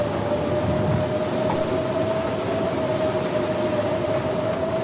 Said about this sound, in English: That is a huge storm.